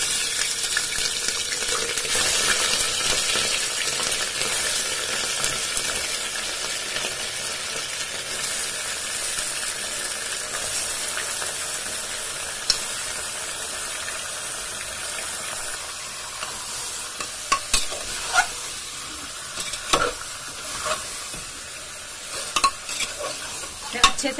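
Mutton frying in a pot with cloves, star anise and green cardamom, a steady loud sizzle with close stirring and scraping that grows sharper and clatters near the end, with no talk.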